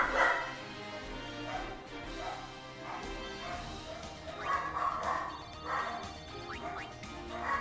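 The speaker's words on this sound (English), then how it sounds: "those dogs need to shut up" Several dogs barking outside in a yard where people are working, repeated distant yaps and barks in irregular bursts, faint beneath indoor game sounds.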